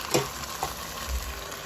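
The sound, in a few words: water added to salmon, garlic and oil sizzling in pan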